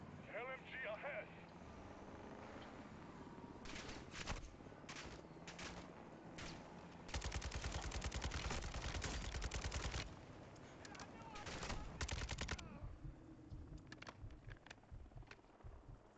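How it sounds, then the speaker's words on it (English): Automatic light machine gun fire in Call of Duty Modern Warfare 2 erupts in long rattling bursts, the heaviest a sustained three-second stream, mixed with scattered single shots and game noise while someone talks over it. "LMG ahead."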